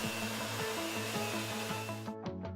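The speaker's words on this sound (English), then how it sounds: "A vacuum machine is used to remove all the air from the investment" A vacuum machine draws air out of plaster-like jewelry casting investment, giving a steady broadband roar under soft background music before it cuts off abruptly near the end.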